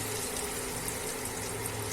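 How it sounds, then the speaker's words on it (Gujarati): About a cup of water pours into a cooking pot of sweet potato curry in a steady, close gush for a couple of seconds, with no talking. "હવે તેમાં આપણે પાણી ઉમેરી દેશું"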